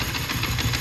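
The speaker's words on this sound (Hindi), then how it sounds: "तो ये चेक कर सकते हैं मैंने आरपीएम जो है वो कम कर दिया है।" A motorcycle engine idles steadily at lowered RPM, its low, even rumble running loud and close for under a second, with no talk.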